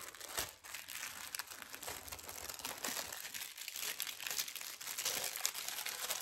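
Plastic packaging around a cross-stitch canvas crinkles and crackles as it is opened, close up and fairly quiet. The rustling keeps going with small tearing bursts throughout, and no one speaks.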